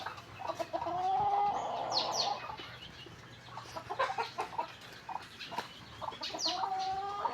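Pet chickens cluck and murmur nearby in irregular bursts, with a few louder squawks and soft chirps over a quiet background hum, no speech.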